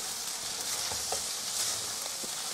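Fried rice with Chinese cured sausage stir-fried over medium heat in a wok, a steady soft sizzle with occasional light scrapes of the spatula.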